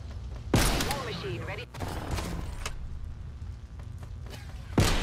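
Gunfire in Call of Duty: Black Ops Cold War comes as a few sharp, loud shots and bursts with gaps between them, set against quieter game ambience.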